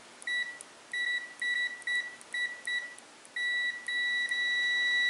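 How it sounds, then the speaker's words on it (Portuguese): Continuity beeps from an ANENG AN-888S bench multimeter: a string of short, clean electronic tones in an uneven rhythm, ending in a longer sustained beep. They ring out close and clear against a quiet background. "Agora tá em bip. Será que tá bipando?"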